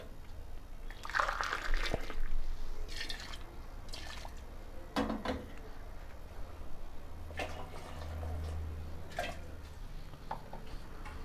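Water pours onto basmati rice in a pot for vegetable pulao, with soft splashing and dripping over a low steady background and a few louder sloshes early on.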